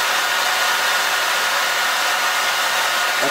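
An NVIDIA Tesla K80 cooling fan in a desktop runs at full speed, a loud, steady broadband whoosh of rushing air with no variation and no voices.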